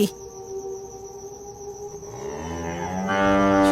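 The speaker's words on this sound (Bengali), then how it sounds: "কি হলো গরুগুলো গরুগুলো এইভাবে চিৎকার করছে কেন" Cartoon cows bellow in a Bengali ghost story, a drawn-out tonal moo that swells and rises in pitch toward the end, loud and close over a faint insect-like background hum.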